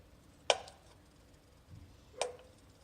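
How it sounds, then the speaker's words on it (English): Two sharp knife chops on a cutting board, cutting butter in a home kitchen, spaced well apart and quiet, with a soft thud between them. "Let me chop the butter up."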